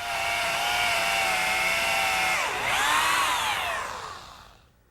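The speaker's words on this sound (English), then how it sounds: "the holes for the dowel pins I'm making with a 1/4 inch brad point bit" A power drill runs continuously for about five seconds, boring a 1/4 inch dowel pin hole with a brad point bit into an oak coffee table leg, with a pitch dip midway and a fade as the drill winds down.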